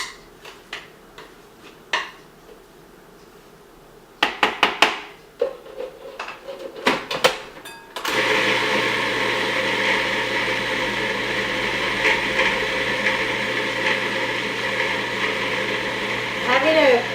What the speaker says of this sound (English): Having a food processor is the greatest thing.